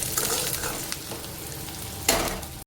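Onions sautéing in oil in a pan until golden brown, with a continuous close sizzle and scraping stirs, plus a sharper stir near the end before it cuts off.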